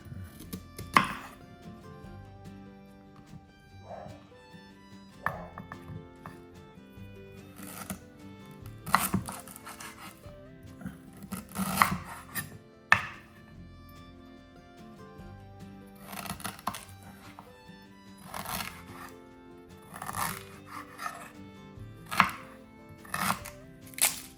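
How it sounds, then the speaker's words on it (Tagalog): Ginger sliced into matchsticks, garlic cloves crushed and an onion chopped on a cutting board make sharp knife knocks, some in quick runs and others spaced apart, close and clear over quiet background music. "slice a piece of ginger into matchsticks, crush cloves of garlic, and chop one medium onion"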